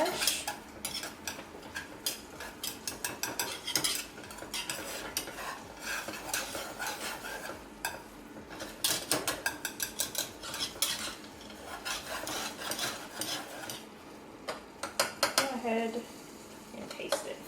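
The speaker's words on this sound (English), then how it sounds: "let's go ahead and give it one last little mash" Food being mashed and stirred in a metal pan for pork chops, with repeated scraping and clinking utensil strokes against the pan, faint sizzling underneath and brief pauses between bursts of mashing.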